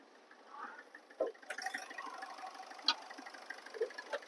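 Ford Fiesta diesel car engine idling with the bonnet open, a steady low mechanical hum broken by a few faint clicks and knocks, heard up close with no talk.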